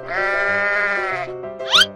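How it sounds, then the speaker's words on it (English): A sheep bleats in a long, wavering call lasting over a second, followed by a shorter, sharper rising bleat; close and clear, with no talking. "Sheep."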